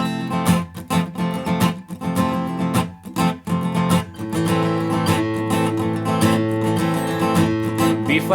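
Acoustic guitar plays a simple arrangement of a song, with steady strummed chords ringing continuously at moderate loudness and no voice over them.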